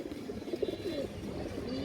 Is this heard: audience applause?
no